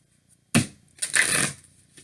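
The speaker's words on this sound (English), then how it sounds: "One more shuffle." A deck of tarot cards shuffled in one quick riffle, a sharp close burst followed by a longer rustling flutter of cards, with no talking.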